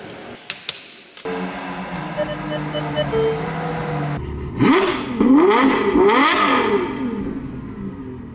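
A Ferrari 812 GTS with a Novitec exhaust idles, then revs up sharply in a few rising bursts after a short pause, close and fairly loud, with some talk mixed in.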